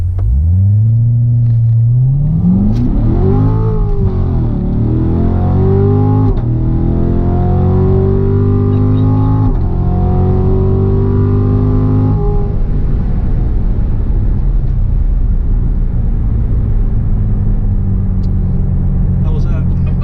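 A Chevrolet Corvette C7 Grand Sport makes a launch-control start: the engine holds loud at high revs, then roars as it pulls hard through rising revs and a couple of shifts before settling into a steady drone, with a little talk over it.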